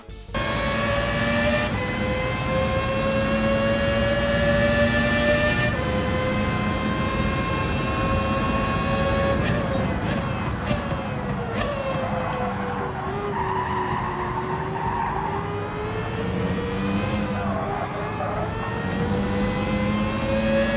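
A Renault Spec F1 racing car with 800 horsepower in Gran Turismo 7 howls loudly and continuously, its engine note rising and dropping through gear changes while tires squeal and skid throughout.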